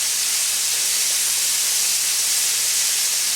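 Cube steak frying in a pan on medium heat, giving a steady, loud broadband sizzle and hiss that runs unbroken throughout with no talking.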